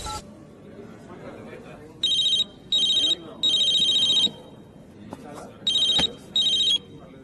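A telephone ringtone in a comedy film scene sounds in repeated bright electronic bursts, five rings with short gaps, over a low murmur of chatter.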